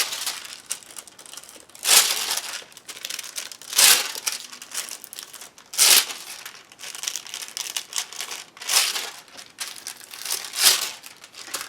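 Aluminium foil crumpled by hand in a crafting session, sharp crinkling bursts repeating roughly every two seconds with quieter rustling in between, close and clear.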